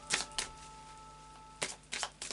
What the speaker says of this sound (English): And then a final shuffle of the After Tarot.